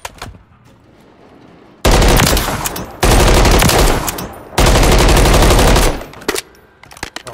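Gunfire in a search and destroy video game match, three long, loud bursts of rapid automatic fire separated by short quiet gaps, with a few scattered single shots around them.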